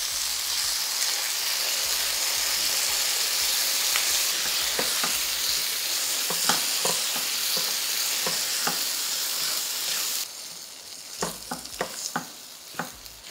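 Breadfruit and curry sauce sizzle and fry steadily in a pan, a dense continuous hiss broken by sharp clicks and pops from stirring, easing slightly toward the end, with no talking.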